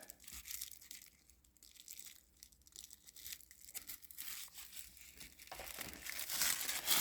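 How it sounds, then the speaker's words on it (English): Packing tape being peeled and torn off the wrapping of a Dooney & Bourke handbag package, with crinkling plastic and paper, steady rustling that grows louder toward the end, no talking. "That looks like the most safest way to get the tape off."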